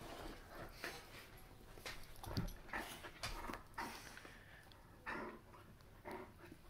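Several dogs panting and giving soft whimpers up close, in a busy irregular stream of short breathy bursts with occasional louder yelps.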